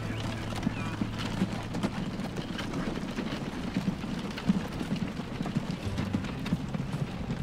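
Horse hooves clip-clopping in the Transport Fever 2 video game, a quiet steady trot of soft repeated hoofbeats with a faint low background hum and no talk.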